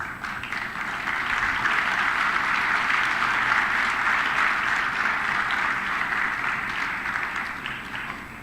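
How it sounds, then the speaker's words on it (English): Sustained audience applause at a military literature festival by Sukhna Lake in Chandigarh, a dense, steady clapping wash that swells in the first second and holds loud for the whole stretch, tapering slightly at the end. "Children, ladies and gentlemen, another round of big applause."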